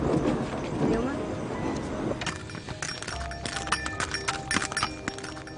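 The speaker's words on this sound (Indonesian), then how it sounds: "Kudanya kenapa meringkik terus" A horse in a rural Indonesian setting clops its hooves and neighs, a whinny early on followed by an irregular run of close hoof clops.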